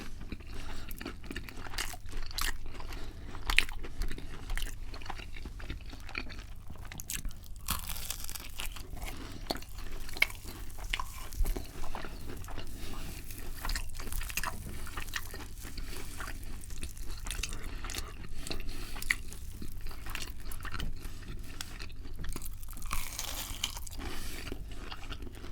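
Close-up eating of crunchy deep-fried Chinese chicken, with a long run of soft crunches, bites and wet chewing sounds, sticky smacks and faint crinkling, steady and intimate, with no talking.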